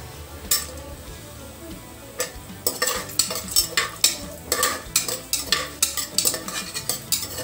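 Cashews frying in hot ghee while a spoon stirs them in the pan, heard as a soft sizzle under repeated close scraping strokes of metal against metal.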